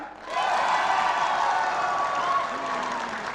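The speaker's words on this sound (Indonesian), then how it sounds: "Nggak boleh kalah yang di sini tepuk tangannya." A studio crowd claps loudly and steadily, with cheers and whoops rising through the applause, holding strong before easing slightly near the end.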